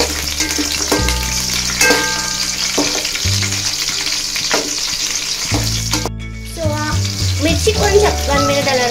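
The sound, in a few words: green chillies frying in hot oil with mustard seeds and cumin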